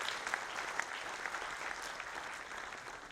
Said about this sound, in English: I wish all of you give a big claps for them.